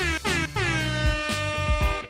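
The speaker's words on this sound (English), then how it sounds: "air horns" An air horn sound effect blasting in a rapid series of loud, bright, harmonically rich honks, some short and one held longer, with no talking.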